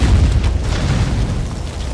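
Explosion in the Conan Exiles video game, a loud booming blast with a rumbling, crackling low-end tail that fills the whole two seconds with no speech.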